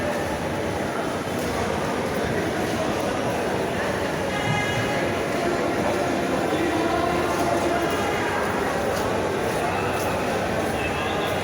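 Busy ambience at Chittagong railway station, with waiting passengers and a steady crowd murmur, a broad constant wash with faint distant clatter throughout.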